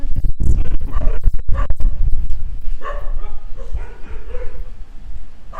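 Dogs bark and yip at the Soi Dog Foundation shelter in Phuket, loud and close, in a busy run of overlapping barks and whimpers over thumping handling noise.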